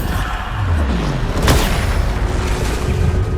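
The Bombarda explosion spell cast in Hogwarts Legacy, a loud, dense blast with a sharp burst at its center that rumbles on as a sustained roar, up close with no talk.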